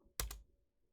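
A short burst of computer keyboard typing, two or three quick keystrokes close up, followed by near silence.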